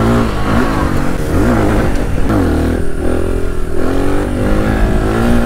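A Husqvarna 300TEI two-stroke enduro motorcycle revs loud and close on a tight trail, the engine note rising and falling continuously through throttle blips.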